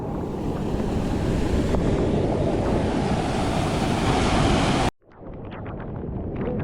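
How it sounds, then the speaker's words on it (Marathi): A stream rushes loudly and steadily along a trail in the main Sahyadri range of Konkan, then cuts off abruptly and resumes as a softer, closer wash of flowing water. "हा ओढा आपल्याला क्रॉस करायचा आहे पाण्याचा फ्लो"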